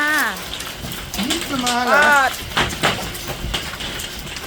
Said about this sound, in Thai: ลูกเห็บตกจ้า